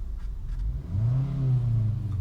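A Mazda 2 Groove Sport automatic hatchback's engine rumbles low and then revs up, its pitch rising and holding steady, close by.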